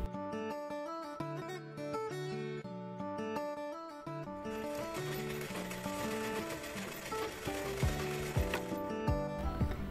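A sewing machine stitches a folded strip of a Katori blouse. Its whirring runs under loud music, and a few rhythmic mechanical thumps surface near the end.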